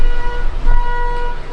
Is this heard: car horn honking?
yes